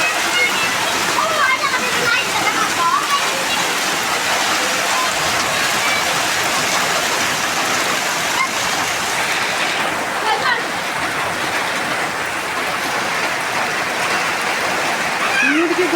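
Rainwater runs and splashes steadily near an outdoor cooking stove in a rural yard, a loud, dense wash of falling and flowing water lasting throughout, with speech over it at times.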